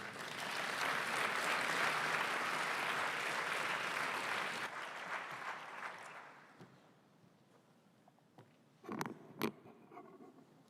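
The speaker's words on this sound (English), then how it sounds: "Round of applause, please." Loud, dense applause from a large audience lasts several seconds, then fades away. Scattered sharp sounds follow in the quiet.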